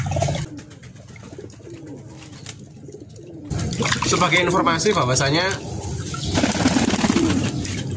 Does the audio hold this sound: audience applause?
no